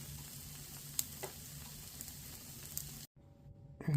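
Food fries in a pan as the other side cooks, giving a steady faint sizzle with a few small pops, cut by a brief silence near the end.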